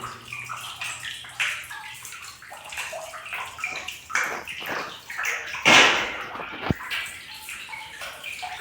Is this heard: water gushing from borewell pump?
yes